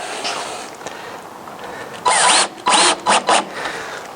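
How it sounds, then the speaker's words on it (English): A power driver runs screws through a window flange during window framing. It is heard as several close, loud whirring bursts in quick succession after a quieter stretch, with the pitch rising as each screw seats. "that's where we're running these screws in"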